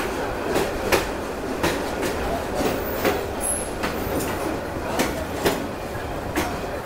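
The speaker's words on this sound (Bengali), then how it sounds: "আমাদের ট্রেন কিন্তু বগুড়া রেলওয়ে স্টেশনে প্রবেশ করছে" The Korotoa Express rolls into Bogura railway station, its wheels clicking over rail joints in a steady repeating rhythm, heard from inside the train at moderate loudness with a faint high squeal partway through.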